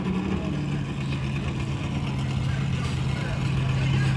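A drag car engine restarts and keeps running at a steady drone, moderately near, with a low hum under the roadside noise.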